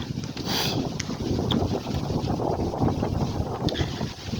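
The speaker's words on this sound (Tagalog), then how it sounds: "Ay, grabing mahangin. Lamig pa ng hangin ha." Steady strong cold autumn wind buffets the microphone, a constant low roar and rumble with a few brief gusts, close and loud throughout.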